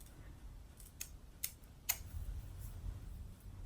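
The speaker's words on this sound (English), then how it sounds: "I'm using these okie dokie scissors" Small cheap scissors snip through wig lace in a few sharp, separate cuts, close and quiet against a soft low background hum.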